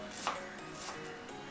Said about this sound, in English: Just slice through the onion there